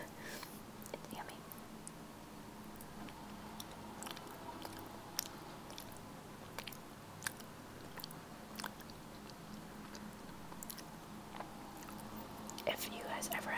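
Close, quiet chewing of a thick, jello-like Japanese sweet with a mung-bean flavour, soft wet clicks and smacks scattered through, under hushed whispering.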